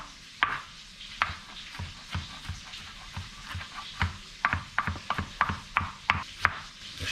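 Knife chopping garlic on a cutting board, a run of sharp, close taps in uneven bursts, some fast and clustered, with no talking.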